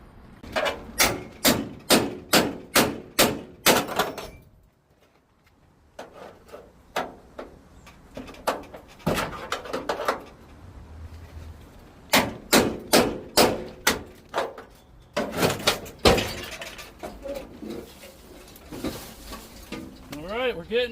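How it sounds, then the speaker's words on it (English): A 1990s Ford Bronco rear quarter panel is hammered out in loud, close metallic blows, fast runs of strikes broken by short pauses and quieter stretches. "Still got to beat this out just a little bit."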